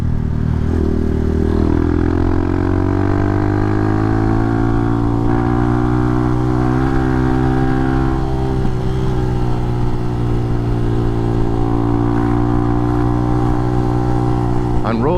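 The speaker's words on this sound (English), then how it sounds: "Third gear has so much engine braking." A motorcycle engine on Isle of Man roads, held in third gear and engine braking, gives a loud, steady, close drone with slowly shifting harmonics and constant wind and road noise for the whole stretch.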